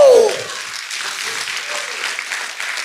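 Applause from a church congregation during a service, a soft, even wash of clapping that continues for a few seconds after a brief tone fades at the start.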